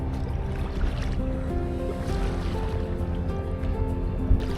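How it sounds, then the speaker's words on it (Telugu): A houseboat glides through the Alleppey backwaters in Kerala, its low engine hum steady beneath gentle lapping water, calm and continuous with no talk. "ఈ వాటర్లో ఇలా బోట్లో వెళ్తుంటే చాలా ప్రశాంతంగా ఉంది"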